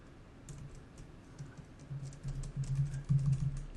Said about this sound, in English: I want to make sure I type it right.